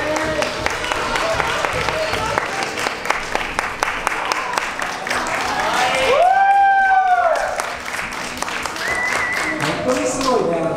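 An audience at a twelfth-anniversary award ceremony claps steadily for two children receiving a trophy, the sharp, dense applause running throughout. A voice talks over it, and a brief whistle-like tone rises in the middle.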